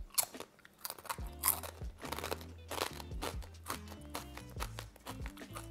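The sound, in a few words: chewing crunchy fried pasta chips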